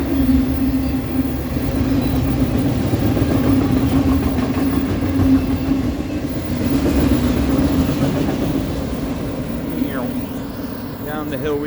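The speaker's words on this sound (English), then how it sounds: "Here's an old Conrail." An old Conrail locomotive passes on the line near Blair, Nebraska, with a loud, steady diesel engine drone and rumbling wheels close by. Voices talk at times under the noise.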